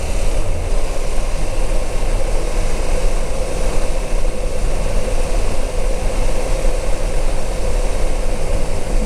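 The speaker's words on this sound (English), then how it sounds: "I don't find the engine unpleasant." A CF Moto 800MT motorcycle engine runs steadily at a constant drone, loud and close, with a dense broadband rumble and no talking.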